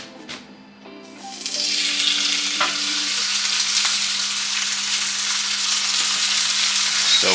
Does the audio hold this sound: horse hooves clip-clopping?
no